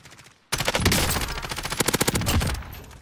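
Rapid automatic rifle gunfire in the shooter game Modern Warfare Warzone, loud sustained bursts of shots after a brief quieter lead-in, with rhythmic repeated cracks toward the end.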